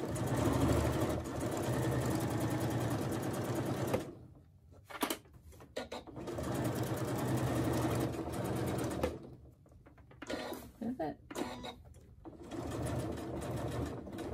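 A sewing machine stitches a crossbody bag seam at a half-inch allowance, whirring steadily in close, sustained runs that stop briefly, then resume in shorter bursts.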